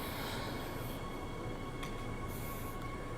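A Transperth B-series train departs from a station on the Joondalup Line, heard as a steady, broad rumble of rolling stock with a faint tonal whine and brief hissing bursts, heard alone with no talk.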